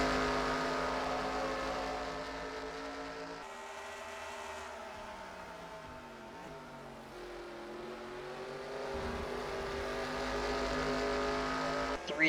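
Race cars roar around the Charlotte Roval in a racing video game, a steady layered engine drone with pitch swells and dips as cars charge for the lead, loud and continuous throughout.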